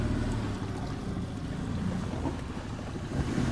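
A traditional black and green sinagot sailing boat out on the water near Vannes, with constant rumbling wind and water wash against the hull, loud and unbroken, no voices.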